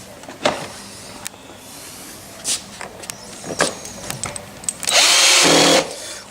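A power driver runs pointy screws into the dashboard of a Kmart toy Rubicon Jeep, with short whirring bursts between handling clicks and a longer, louder run near the end.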